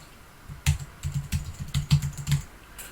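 A company name is typed on a computer keyboard in a quick, uneven burst of close, crisp keystrokes with a few pauses and no talking.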